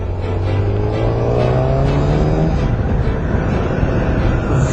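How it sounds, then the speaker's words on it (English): A 2008 Yamaha FZ1 motorcycle being ridden, heard as loud, steady engine drone with rising pitch as it accelerates, mixed with heavy wind rush and no talk. "Quite excited to take this bike out for a ride."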